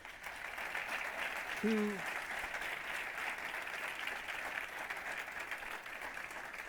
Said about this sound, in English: Please give a warm round of applause to all our speakers